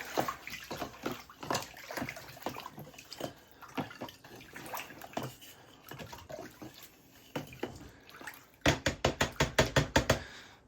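Liquid fertilizer concentrate being stirred into a container of water, heard as close sloshing and knocking of a stick or hand against the vessel, ending in a quick run of rhythmic splashing strokes.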